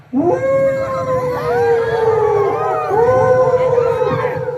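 During a bharud folk performance, a human voice imitates a dog's long, wavering, mournful howl, held for several seconds, close and loud with no other sound.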